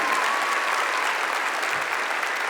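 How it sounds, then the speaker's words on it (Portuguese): A church congregation applauds during a worship service, a dense, even wash of clapping from many hands held steady at full strength throughout. "Dá uma salva de palmas para o Senhor e diga comigo."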